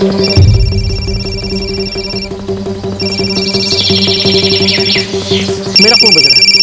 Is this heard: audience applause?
no